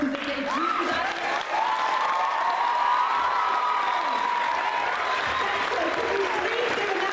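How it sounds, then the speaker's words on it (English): Applause and cheering break out from an audience at a documentary screening, a steady wash of clapping with whoops and shouts, while a voice speaks over it. "Please give another round of applause"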